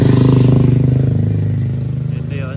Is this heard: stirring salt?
no